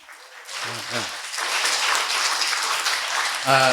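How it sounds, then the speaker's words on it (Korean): A church congregation bursts into loud applause during a Sunday service, clapping swelling quickly and holding dense and steady, with a voice speaking briefly at the start and again at the end. "박수 같은데 너무 인색하면 안 돼요. 다시 한번 해보세요."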